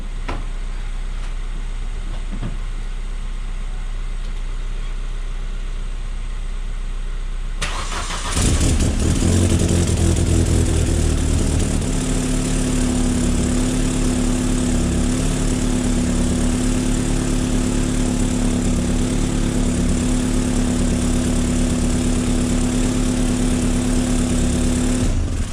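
A Vauxhall Astra H VXR engine with a replacement K04 turbo cranks and fires up, then settles into a steady, loud, close idle with a humming drone, after a stretch of low background noise.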